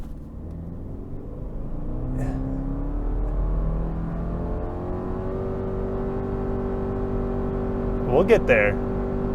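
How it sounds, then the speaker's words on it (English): A 2025 Subaru Forester with 180 horsepower accelerates hard from a standstill to 60 mph, its engine droning steadily and rising under a brief spoken remark near the end. "We'll do a little 0 to 60 with 180 horsepower."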